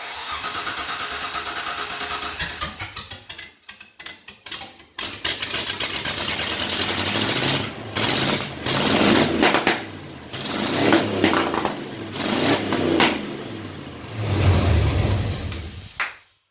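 An LS V8 swapped into a Datsun 620 cranks and roars to life, shooting flames, then revs hard again and again, the loud growl rising and falling up close.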